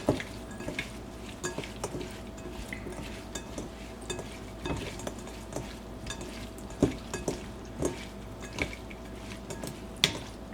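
Seasoning being stirred into Cajun shrimp cooking in a pot, with wet squishing scrapes and spoon knocks over a continuous sizzle, close and moderately loud.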